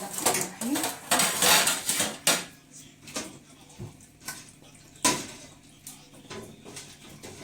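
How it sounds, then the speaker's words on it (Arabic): Raw meat placed into a tagine for an okra and potato dish in a home kitchen: irregular close clatters and knocks of pieces and metal against the pot, with light clinks between them and someone talking softly underneath. "كده بقى احط اللحمه"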